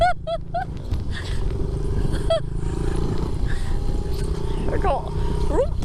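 A Honda pit bike ridden outdoors gives a steady, loud engine rumble throughout, with voices heard faintly over the motor.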